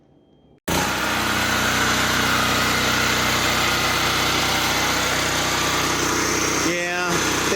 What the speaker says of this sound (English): So I got to try out the generator.